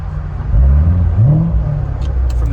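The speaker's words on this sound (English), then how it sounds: "I just love that baritone of the V8," A V8 engine revs under load in a car, a deep baritone rumble swelling and falling in pitch, heard close and loud with no talk.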